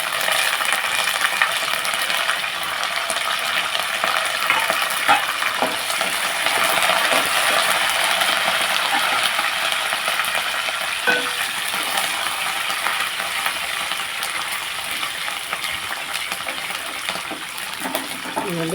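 Green chillies, peanuts and curry leaves fry in oil as a tempering for upma, giving a loud, continuous crackling sizzle close by with occasional stirring, and no talk.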